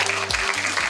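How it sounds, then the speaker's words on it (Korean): Applause from an audience at a Korean PR academic conference as a vice chairman is welcomed to give congratulatory remarks, a brief, dense burst of clapping throughout. "박수로 맞아주시면 감사하겠습니다."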